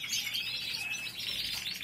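Caged birds chirp and tweet steadily beside windows facing the sea, a dense bright twittering that runs without pause and sits fairly close.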